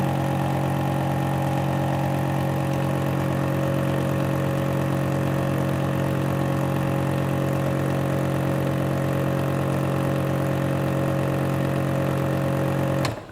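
A vacuum pump running during funnel filtration in a chemistry lab, producing a loud, steady mechanical hum with a constant tonal drone that cuts off abruptly at the end.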